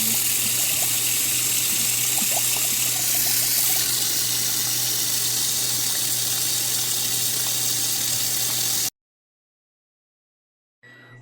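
Tiny shrimp (alamang) being rinsed under a running tap, a steady close hiss and splash of water that runs for about nine seconds and then cuts off abruptly into silence.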